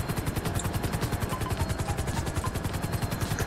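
Steady rapid chopping of helicopter rotor blades in the video game GTA 5 Online, loud and close, with a constant low thumping rhythm throughout.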